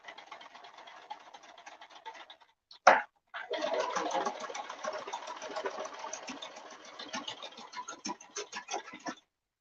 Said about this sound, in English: I'm going to do a little small forward stitch and then back stitch.